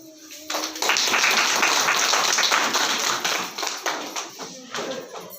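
A small gathering at an ITI campus event claps briefly to honour women being recognised, a short burst of handclaps that tails off into a few scattered, uneven claps near the end.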